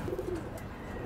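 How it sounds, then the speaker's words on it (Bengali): A racing pigeon coos softly in a low, rolling burst, close by over a steady background rumble, with no talk. "আমার অনেক পছন্দের কবুতর এটা"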